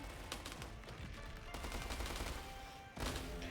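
Rapid, loud hand cannon gunfire bursts in a video game, dense overlapping shots with booming low end and a heavy blast near the end.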